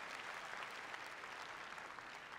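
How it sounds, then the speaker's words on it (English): Steady, dense applause from an audience at the Social Good Summit 2015 in the Philippines, a faint wash of many clapping hands that continues without a break and has no talk over it. "I think we can give a big applause to the Philippines for that achievement."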